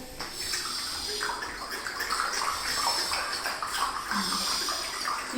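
Water runs steadily from a tap for washing hands, a continuous soft hiss and splash heard alone at moderate distance.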